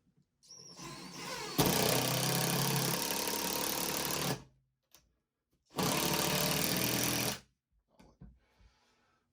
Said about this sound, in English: I'm going to drive home a 3-inch screw right through the whole deal here